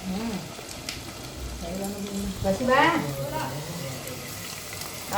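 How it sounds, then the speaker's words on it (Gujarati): Papad frying in hot oil at home on a rainy day, a steady bubbling sizzle that swells and crackles louder midway, with faint voices and background noise around it. "રવિવારના પાપડ તળાય."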